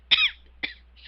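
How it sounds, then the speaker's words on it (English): A person coughs or clears their throat twice, close and sharp, with a short pause between the bursts and a third beginning at the end. "again with the coughing"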